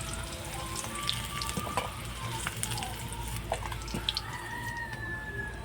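Spiny gourd (kakrol) pieces fry in oil in a wok, giving a steady, fairly quiet sizzle with light crackles and a few soft stirring clinks throughout.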